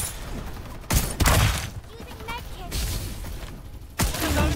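Bursts of gunfire in the battle-royale shooter Farlight 84, with loud sharp volleys at about one, two point seven and four seconds among quieter game effects and a voice talking.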